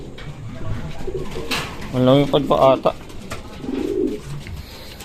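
Young racing pigeons coo in soft, rolling bursts nearby in a loft while someone talks quietly over them.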